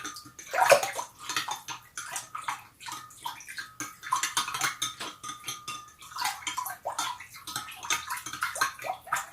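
Liquid for a vegan pot roast is stirred in a pot, producing continuous close sloshing and swishing with splashy, uneven pulses throughout.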